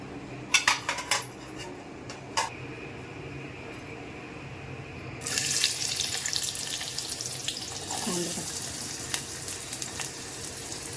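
A few light clinks of a pan, then onion drops into hot tempering oil and a loud, steady sizzle takes over and keeps crackling close by.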